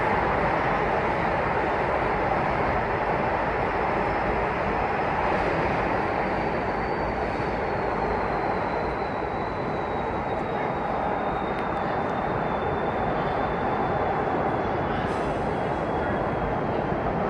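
A Philadelphia Broad Street subway train speeds through a tunnel at around 70 mph, a loud, steady roar of wheels and rushing air that runs the whole time, with a faint high whine sliding downward partway through.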